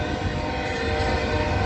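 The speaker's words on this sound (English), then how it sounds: "That was a Gevo, a Mac, and a Gevo on the local mixed freight" Union Pacific local mixed freight train at night in Elgin, Texas, led by GE Evolution and SD70MAC locomotives: a steady, loud rumble with a sustained horn-like tonal drone throughout.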